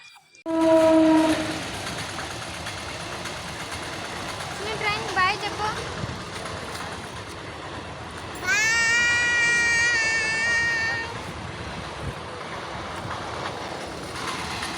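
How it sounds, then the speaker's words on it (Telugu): A train horn blasts near the start, then the train rumbles past a level crossing with clattering wheels, a second long horn sounding midway over the steady roar. "మా గేట్ వేశారు, ట్రైన్ వస్తుంది ఇప్పుడు"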